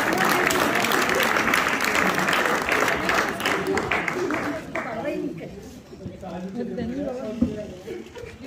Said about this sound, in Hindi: आप लोग भी भरपूर तालियां बजाइए